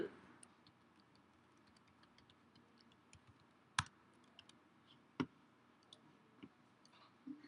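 Computer mouse clicks sound as a few sharp, isolated clicks spaced a second or more apart, faint against a quiet room hum.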